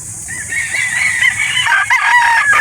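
Several roosters crow loudly and close by at a chicken market in Calauan, Laguna, their drawn-out calls overlapping, with clucking and farmyard murmur underneath.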